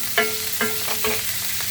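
Butter and ginger frying in a pan, a soft continuous sizzle with a few rhythmic stirring scrapes, close and quiet with no talking.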